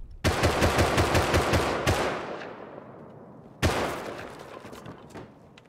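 Explosive ammo fires in the video game Rust as a loud rapid burst of automatic gunfire, then a long echoing decay, followed by a second sharp blast that fades out.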